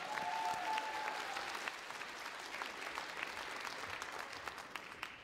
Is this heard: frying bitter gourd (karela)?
no